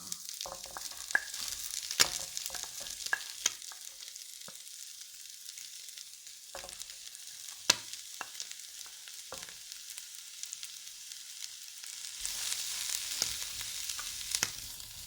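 Vegetables sizzle and hiss steadily in a hot pan while being stirred for a mung bean sprout and rice noodle dish, with scattered scraping clicks and a rising sizzle near the end, no voices.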